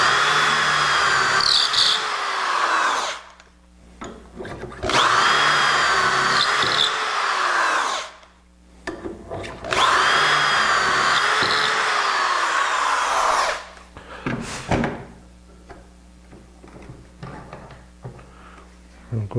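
A power drill bores dowel holes in wood in three long whining bursts with pauses of handling noise between them, then a short fourth burst, close and loud.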